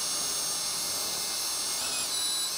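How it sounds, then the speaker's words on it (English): A power drill spins a 3/4 inch spade bit through material for a DIY 12 volt camping shower build, a continuous high whine holding steady with a slight pitch shift near the end. "I'm gonna go ahead and use this 3/4 inch spade bit to get it going."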